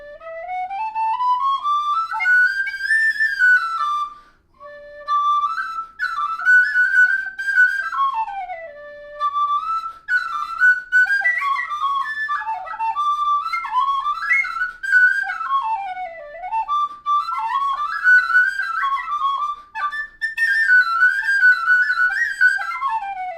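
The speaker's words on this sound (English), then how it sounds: "Here's the Dixon whistle." A Dixon tin whistle plays a lively melody alone, clear and close, with bright sustained notes, quick runs and a brief breath pause early on.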